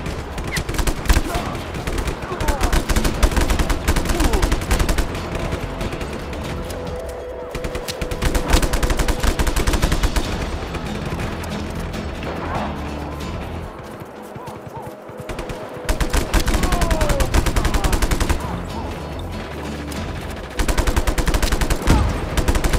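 Gunfire rattles constantly in a Just Cause 3 tank battle, with dense overlapping bursts and heavy booms. Brief quieter gaps break the fighting before loud firing resumes, and some game voices talk beneath the racket.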